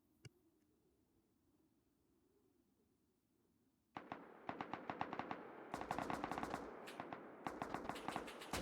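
Rapid bursts of AK rifle fire from the game Rust ring out after a few quiet seconds, loud sharp shots in quick strings with brief pauses between volleys.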